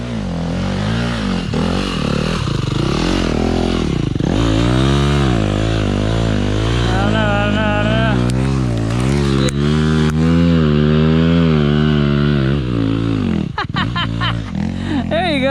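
A 4-stroke dirt bike engine revs hard on a muddy trail at Hollister Hills, rising and falling in pitch through repeated throttle swells, loud and close, with riders' voices and laughter mixed in.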